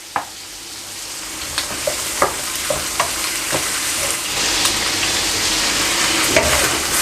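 Prawns fry in a tablespoon of hot oil in a wok for pad thai, an even bright sizzle with a run of sharp clicks and scrapes from stirring, close and loud.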